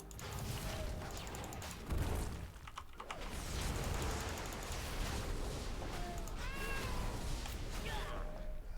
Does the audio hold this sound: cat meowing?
yes